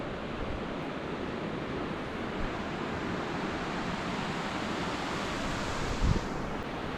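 Broad, steady surf washing along a coastline outdoors, a continuous rushing roar with light wind buffeting the microphone and a brief louder gust near the end.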